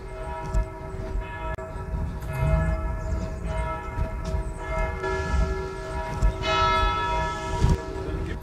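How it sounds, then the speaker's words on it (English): Abbey church bells in Clervaux ring continuously with sustained, overlapping tones over steady outdoor background noise, moderately loud and without speech. "all you got to do is follow the bells"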